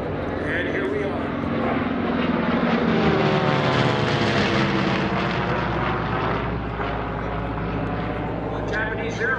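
Steady droning engine of a Corsair propeller warplane at an airshow, loud and sustained, swelling slightly mid-way as the plane passes, with faint talk beneath.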